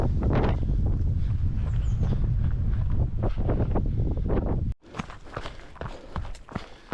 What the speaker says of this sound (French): Et là il y a du vent.